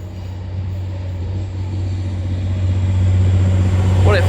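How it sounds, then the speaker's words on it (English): A TransPennine Express train departs York station, bound for Manchester Piccadilly, with a steady low engine drone that swells gradually and a rising tone near the end. "Departing now is your 11:58 Transpennine Express service bound for Manchester Piccadilly."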